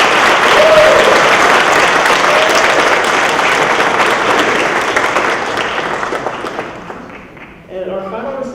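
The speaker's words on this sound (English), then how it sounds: "Please give a warm round of applause" An audience at a student awards ceremony breaks into loud sustained applause, a dense roar of clapping that gradually thins and fades toward the end before a voice resumes.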